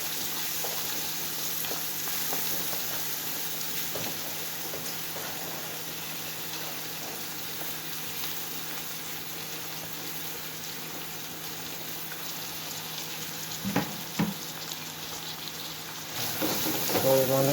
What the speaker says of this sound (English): So we're gonna let this stir fry.